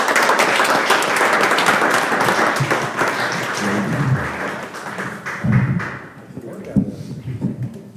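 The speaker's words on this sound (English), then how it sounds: "If you can give these ladies and gentlemen a big round of applause." Applause for honorees at a board of education meeting, a brisk clatter of clapping for about four seconds that fades out, followed by scattered thumps and room noise as people speak.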